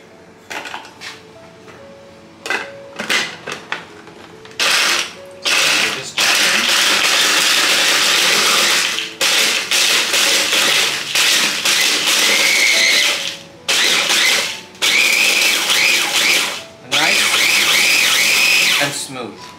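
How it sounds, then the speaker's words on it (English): Chocolate Oreo cookies, cream removed, crushed in a kitchen mixer: loud bursts of grinding, rattling blade noise starting and stopping repeatedly, with a person talking in the quieter gaps between pulses. "we're just going to throw them into the mixer"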